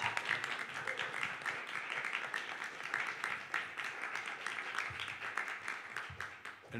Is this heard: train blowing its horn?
no